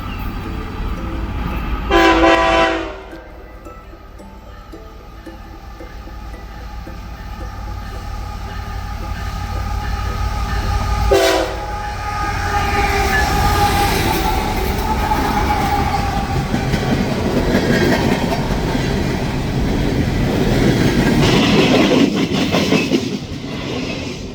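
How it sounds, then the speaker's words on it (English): A CSX rerouted empty coal train rolls past loudly and close, with long horn blasts near the start and again midway over a steady rumble and clatter of wheels. "I would catch another CSX rerouted empty coal train."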